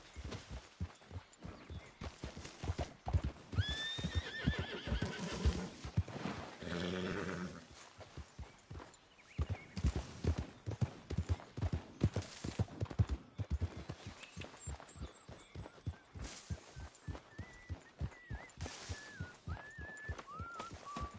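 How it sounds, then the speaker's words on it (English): Horses in Red Dead Redemption 2 trot with a steady clip-clop of hooves, joined by a couple of short whinnies and some brief animal snorts, set against quiet game ambience, with no talk. "Get rid of that horse."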